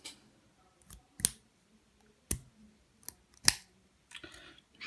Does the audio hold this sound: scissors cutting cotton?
yes